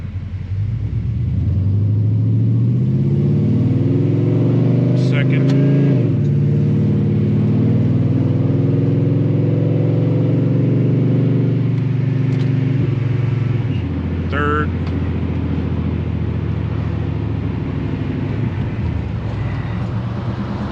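A Chevy truck with a B&M floor shifter and automatic transmission drives along, its engine droning loud and steady in the cabin, with gear changes causing shifts in engine pitch and a couple of faint clicks.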